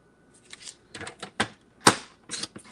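Scissors cutting purple paper, with close, crisp snips and rustles in uneven clusters, the loudest cut near the end, over an otherwise quiet background.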